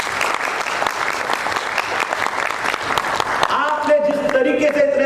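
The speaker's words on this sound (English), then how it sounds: "Let's clap for each one of you." An audience at a business event applauds in a sustained, dense round of clapping that fades near the end as a voice begins speaking over it.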